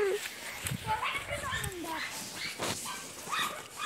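A dog out on a walk gives several short whimpers and yips in quick bursts, close by, while people talk over and around it.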